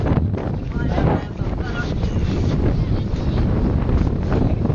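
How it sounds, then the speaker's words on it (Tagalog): Strong wind roars and buffets the microphone continuously, a heavy low rumble with gusting noise throughout. "Sobrang lakas po ng hangin dito."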